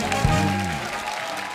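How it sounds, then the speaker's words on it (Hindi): Studio audience applause on The Kapil Sharma Show, a Hindi TV comedy show, a dense wash of clapping that fills the short stretch, with a voice trailing off at the very start. "एक बार जोरदार तालियां हो जाए हमारे मेहमानों के लिए।"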